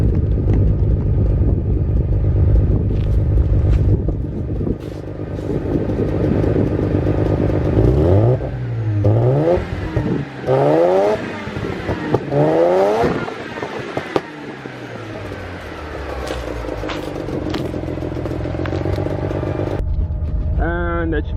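A JDM Mazda FC3S Savanna RX7 engine, heard from behind the car, idles loudly, then revs sharply several times in quick succession before settling back to a rumbling idle.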